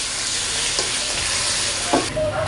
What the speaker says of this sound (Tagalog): Yan, igisa-gisa lang po yung ating pork.